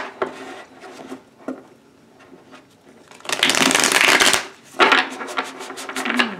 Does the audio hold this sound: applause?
no